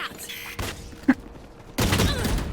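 Gunfire in the Valorant video game: a few brief shots and thuds, then a loud burst of rapid firing near the end.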